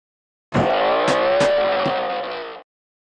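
A cartoon racing car in a Peppa Pig theme park game speeds up on turbo, a rising engine whine with squealing tires that starts abruptly, holds for about two seconds, then cuts off cleanly.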